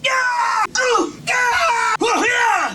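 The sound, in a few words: character screaming from video game Dragon Ball Z: Budokai 3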